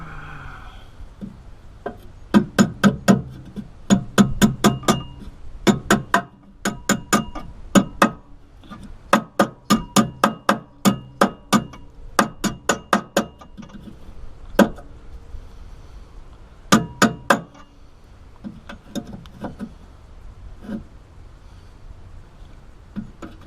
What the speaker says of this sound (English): Get a little hammer, tap that back in place.